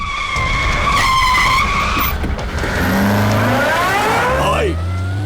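Car tires screech loudly as a vehicle brakes hard in an action movie scene, a long skidding squeal with wavering pitch running nearly throughout, ending with lower engine and tire rumble.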